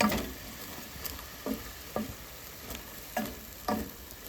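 Fried rice is sautéed in a pan at a campsite, with a low constant sizzle broken by regular clacking stirs of a spatula every half second or so, close by and with no talk.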